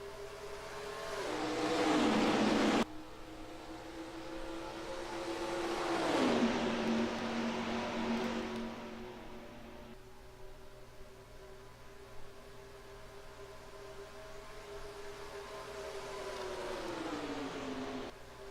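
Race cars taking the green flag at Atlanta in the NASCAR Racing 2003 video game, engines droning and rising in pitch as the field accelerates together, with several swells of revving, no voices.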